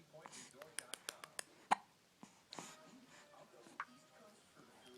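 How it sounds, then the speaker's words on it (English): A child hiccups repeatedly in a quick series of small sharp catches, close and fairly soft, with an adult talking gently around them. "We don't like the hiccups."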